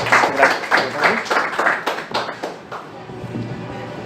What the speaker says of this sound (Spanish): le damos un aplauso a Javier